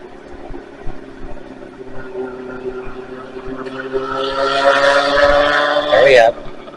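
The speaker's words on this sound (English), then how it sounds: "Waiting for that motorcycle or whatever it is to go by." Near a highway by a stone arch railroad bridge, a motorcycle with a loud muffler approaches and passes, its engine drone rising in pitch and volume before cutting off abruptly, over steady traffic noise.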